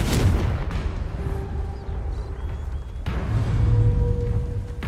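Confringo blasting spell cast in the video game Hogwarts Legacy, heard as loud booming explosive blasts with rumbling impacts, one near the start and another around the middle, over a dense, continuous game soundscape.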